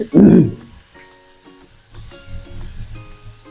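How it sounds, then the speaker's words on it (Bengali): Chicken pieces dropped into hot olive oil in a frying pan, a loud burst of sizzle at first that settles into a softer steady crackle and spit, close by. "আমি চিকেনগুলো দিব ফ্রাই করার জন্য"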